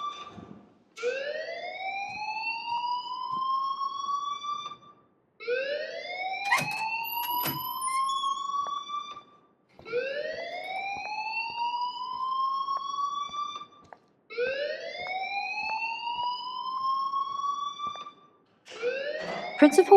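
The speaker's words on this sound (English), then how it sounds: "please turn off that alarm since that's your job" A fire alarm blares inside the Life is Strange video game, a repeating rising electronic siren wail sounding in four long bursts with short gaps between them, loud and steady, with no one talking over it.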